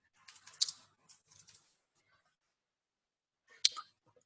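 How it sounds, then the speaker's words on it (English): Someone types an answer on a computer keyboard, with quiet, close clicking keystrokes in short irregular bursts separated by a long silent pause. "I'm typing an answer that everyone will be able to read in just a sec."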